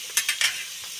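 A spoon stirs vegetable sambar with bottle gourd and bitter gourd in a pan, making a few quick scraping strokes over a faint, steady sizzle, close up and brief.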